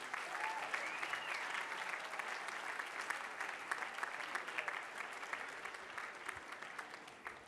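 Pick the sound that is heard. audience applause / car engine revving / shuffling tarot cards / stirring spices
audience applause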